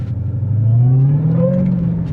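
A 2019 Dodge Challenger Hellcat's supercharged engine answers a quick tap of the gas with a loud, close rev and a rising supercharger whine that climbs and holds briefly.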